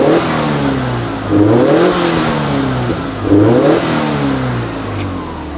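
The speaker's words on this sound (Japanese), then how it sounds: "レイシングマフラーサウンドいきますよ。" A loud, raspy racing exhaust on a Subaru Impreza WRX STI (GRB) revs sharply twice, rising and falling in pitch over a steady idle, close and aggressive.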